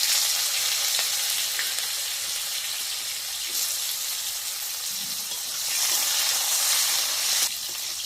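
Bitter gourd pieces frying in oil give a loud, continuous bright hiss and sizzle with slight surges, close and steady throughout.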